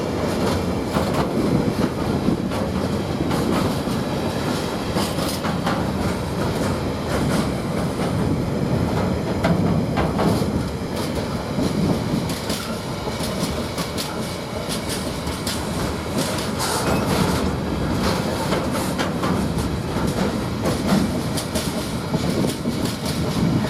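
GBRf freight train passing through Ely railway station, a continuous loud rumble of wagons with steady clickety-clack of wheels over rail joints, close by and sustained throughout with no talk.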